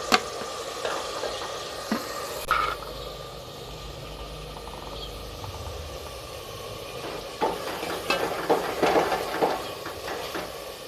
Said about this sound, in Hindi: और आस्ता आस्ता मसाले को अच्छी तरह भूनते रहेंगे ताकि हमारा मसाला अच्छी तरह बन जाए।